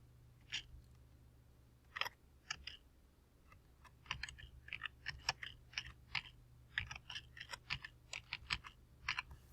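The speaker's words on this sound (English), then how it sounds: "type my name." Fast, light typing on a computer keyboard as a name is entered, irregular bursts of close, faint key clicks with no voices.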